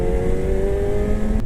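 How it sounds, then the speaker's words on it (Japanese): Motorcycle engine held at full throttle on a mountain road, a steady loud drone with a strong sustained engine tone throughout, no pauses or gear changes. "アクセル全開。"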